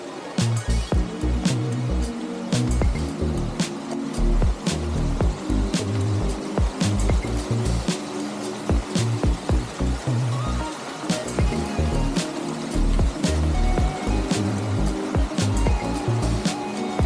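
A small creek crossing on a mountain hike toward Foggy Lake through Gothic Basin flows steadily up close, a continuous broadband rush of water with frequent sharp splashes and knocks, no voices.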